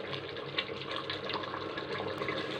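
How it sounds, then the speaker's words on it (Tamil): A pot of mutton biryani with water bubbling and boiling, a dense, steady watery hiss and burble at close range with no voices. "சலசலன்னு கொதிக்குது."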